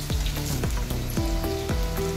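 Whole spices (cinnamon, black pepper, cardamom, cloves, bay leaves and cumin) frying in hot oil in a pan, a loud close sizzle with repeated sharp crackling pops.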